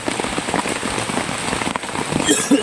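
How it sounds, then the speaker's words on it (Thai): Rain pours steadily onto surfaces outdoors as a dense, loud, continuous patter of drops, close to the microphone, with no talking over it. "ฝนมันมาเร็วเกิน เอาไม่ทัน"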